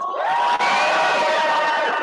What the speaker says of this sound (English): Round of applause for Citlali, please.